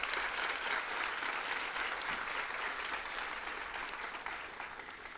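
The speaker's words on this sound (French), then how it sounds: "on peut les applaudir encore à nouveau pour le beau numéro" Gala audience applauding a dance performance, sustained even clapping from a large room of people, fairly distant and steady, easing slightly near the end.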